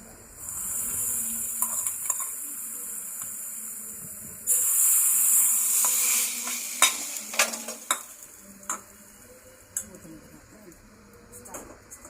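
Spices and asafoetida crackle in hot oil for a tadka amid steady stirring, with a loud burst of hissing sizzle midway, followed by spoon scrapes and clinks against the pan.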